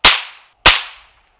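Two sharp gunshots from a .22 caliber rifle firing Federal ammunition, each a loud crack with a quick fading tail, about half a second apart, with no talk.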